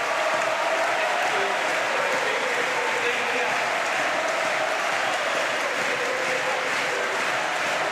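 Steady, dense applause from a large crowd fills a wheelchair para badminton doubles medal match arena, continuous and loud throughout with no pause.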